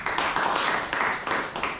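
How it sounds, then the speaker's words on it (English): A small audience at a faculty and staff education session claps, a brief burst of close, fairly quiet hand claps in uneven pulses with no talking. "You all need a clap."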